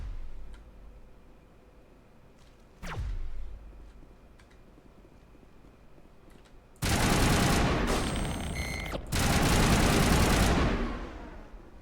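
Bursts of gunfire in the Mass Effect 1 video game: a brief sharp shot, then two loud sustained volleys of rapid automatic fire close up, with ambient game hum between them.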